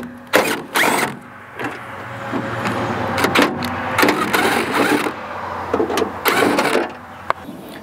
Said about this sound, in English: first give them an impact to the tighten side and then loosen them